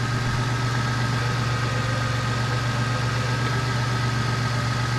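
A running 2000 Toyota Tacoma 4x4 engine idles steadily with a constant whining tone from its power steering pump layered over the low, even engine drone, close and continuous.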